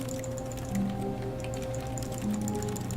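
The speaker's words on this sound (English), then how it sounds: "I'm typing." Computer keyboard typing in the video game The Stanley Parable, a steady run of quick, light clicks over a constant electronic hum, close and alone.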